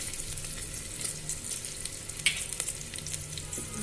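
Curry leaves and red chili powder, added after asafoetida and onion for a masoor lentil curry, sizzle in hot oil with a soft continuous crackle and a few sharper pops, fairly quiet and close.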